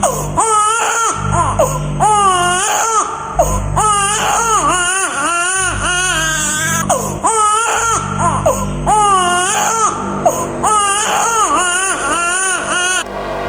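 A baby wails loudly and continuously as a sound effect in a Javanese puppet-show story, with repeated rising and falling cries over a low rumbling background.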